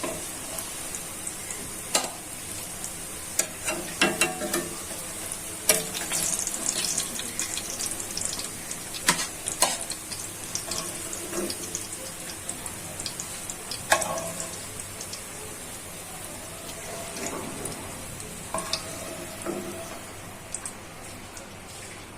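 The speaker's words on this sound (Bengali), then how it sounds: "একে একে সবগুলা ভেজে নিই।" Sliced pointed gourd (potol) fries in a pan with a constant soft sizzle. Occasional clinks and scrapes of a spatula turning the pieces come through, and no voices are heard.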